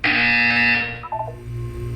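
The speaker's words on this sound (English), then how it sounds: "You will hear a buzzer." A loud electronic buzzer in Portal 2 blares steadily for about a second, then cuts off, leaving a few faint tones and low hum.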